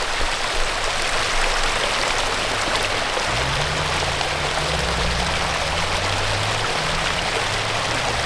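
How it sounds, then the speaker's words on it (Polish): A small stream pours down into a waterfall at Prskalo in Serbia, making a steady, close rush of splashing water that continues without a break, with a faint low hum underneath. "Taki strumyczek się leje"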